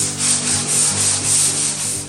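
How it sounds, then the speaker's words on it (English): Light sanding of a polyurethane coat on a cedar table, heard as steady back-and-forth rubbing strokes that swell and fade in an even rhythm with no talking. "what's happening between each of these coats of polyurethane is a real light sanding"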